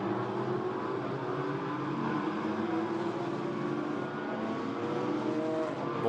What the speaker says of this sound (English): now the cars blast their way down again into the left-hander of turn 8